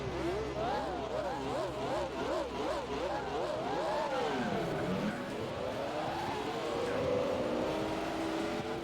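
Race car engines in the Gran Turismo 4 video game rev and wail through rising and falling gear changes, moderately loud and steady, with a tire squeal mixed in.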